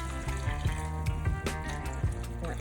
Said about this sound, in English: We're adding enough liquid to cover the rice